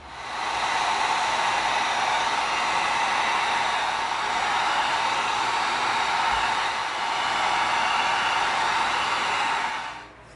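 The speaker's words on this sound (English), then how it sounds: "we're going to heat seal these and glue them together" A heat gun blows a steady, even roar while heat sealing pieces of EVA foam, loud and close, running unbroken for about ten seconds before switching off.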